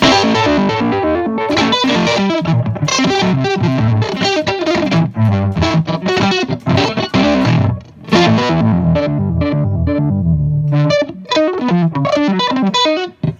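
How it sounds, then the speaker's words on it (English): Electric guitar through an EarthQuaker Devices Arpanoid pedal set to minor random arpeggiation, loud, rapid stepping notes in a busy, irregular pattern with brief gaps, no voices. "This is the minor arpeggiation random, and that's setting 8."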